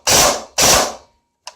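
Umarex UMP airsoft gun, fully upgraded, fired semi-automatic: two loud, close, crisp mechanical shots about half a second apart, then a short fainter clack, with no talking.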